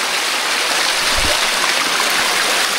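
Clear stream water flowing steadily outdoors, a broad continuous rushing and gurgling wash that stays loud and even throughout with no voices.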